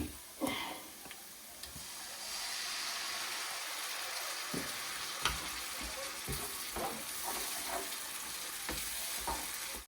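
Spices and tomato puree fry together in a pan for egg keema, a soft, steady hiss with scattered light pops and occasional stirring knocks, fairly quiet and close, no voices.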